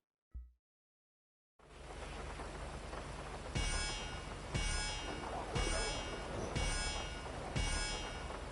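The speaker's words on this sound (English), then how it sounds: "What would this track look like in the rain?" Steady rain pours down in GTA Online, a dense, loud hiss that starts abruptly after a brief thump and near-silence, with faint periodic rumbles pulsing every second or so beneath it.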